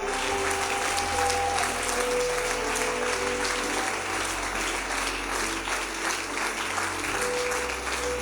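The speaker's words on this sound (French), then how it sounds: "Continuons d'acclamer." A large church congregation claps in sustained, dense applause that holds steady and loud for the whole stretch, with faint voices and a low hum of music underneath.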